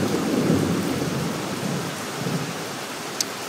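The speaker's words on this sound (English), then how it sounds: "Absolutely pouring and flooding in here now. A little bit of lightning around." Steady, heavy, flooding downpour from a storm cell with lightning roars throughout, with a low rumble of thunder underneath and no voices.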